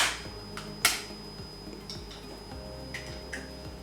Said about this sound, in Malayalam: മുട്ട പൊട്ടിച്ച് നമുക്ക് ഒഴിക്കാം.